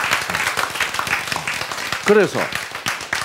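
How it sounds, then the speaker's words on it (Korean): Lecture audience clapping in scattered, uneven bursts, mixed with someone speaking Korean over the applause at close range. "박수 치세요"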